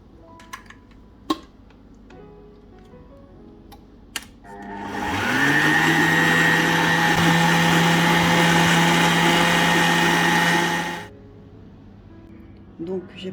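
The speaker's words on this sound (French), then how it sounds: "Je vais préparer mon coulis de fraises dans un blender." A blender runs steadily for about six seconds, whirring loud and constant with a rising pitch at start-up, blending strawberries into a coulis; faint kitchen clatter and small knocks come before and after.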